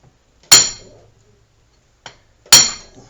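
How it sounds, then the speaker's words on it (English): Two sharp metallic whacks, about two seconds apart, from a broken breaker bar striking the axle shaft retainer on a 2007 Dodge Charger AWD; each loud clang rings briefly and is separated by a faint tap. "I just take my broken breaker bar, and we're going to give it a whack on the back out right here"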